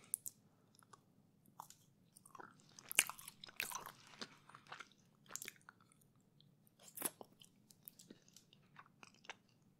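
Close, wet chewing of chocolate filled with salty licorice paste, with irregular crunchy bites and sticky mouth sounds spread over several seconds, with no talking.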